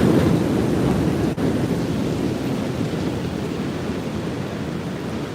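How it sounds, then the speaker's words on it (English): Steady rain falls on a street outside a subway station in Astoria, Queens, a dense, even hiss of drops with one brief tap partway through and no voices. "I always like to pause and listen to some rain noises."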